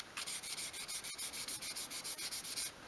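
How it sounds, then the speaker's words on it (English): Sandpaper held at an angle rounds the edge of a small 1/12 scale wooden wall cupboard, making quick, steady back-and-forth rasping strokes, about twenty of them in an even rhythm, close and clear with no talking. "just hold the sandpaper at a 45 degree angle and just go along that edge"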